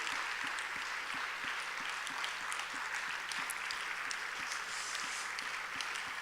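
A church audience claps steadily for elders leaving the stage, a sustained dense ovation with a few sharp nearby claps standing out through the wash.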